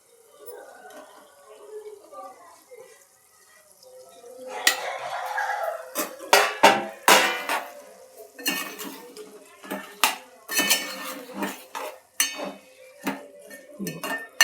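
Onion and green chilli being cooked in a pan for a chicken, brinjal and tomato curry, with repeated metal clinks and scrapes of a utensil stirring against the pan, close and fairly quiet, in irregular bursts.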